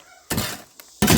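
Concrete being smashed and knocked out of a pillar form at a home foundation build: two loud crashing impacts with crumbling debris and a small knock between, close by.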